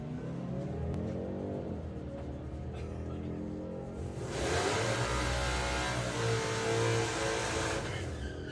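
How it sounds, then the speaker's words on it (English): A Chevy and a Jeep Cherokee drag race at the Santa Pod Festival of Power, one engine idling then surging into a loud, sustained rev and roar as the car accelerates away, heard from nearby. "So it will be the Chevy going first, and then it will be the Cherokee, the Jeep Cherokee, doing the closing at a rapid rate of knots as well."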